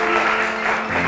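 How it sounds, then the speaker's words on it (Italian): Guests applaud at an evening dinner event at Villa Giustinian. The clapping is a loud, steady wash that carries through the whole short stretch, with a faint tonal hum underneath. "vogliamo fare un applauso a Silvia Cobianchi"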